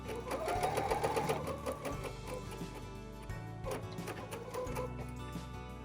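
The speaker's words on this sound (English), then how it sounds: "I am simply gonna stitch right along that line all the way through" A sewing machine stitches a diagonal line on fabric for a Caboodle Doodle Pad, giving close, quiet, rapid mechanical whirring and ticking that runs continuously with slight dips in speed.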